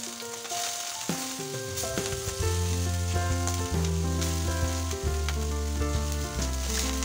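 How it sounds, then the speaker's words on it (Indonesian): Garlic and peeled shrimp stir-fried in a hot pan, a loud steady sizzle throughout, with clanking of utensils stirring and no talking. "Lalu kita masukkan udang yang telah dikupas dan dicuci bersih."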